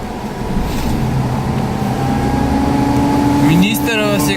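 A Patria 8x8 armoured vehicle's engine runs with a loud, steady diesel drone and low rumble throughout, a rising tone near the end, with voices speaking briefly over it.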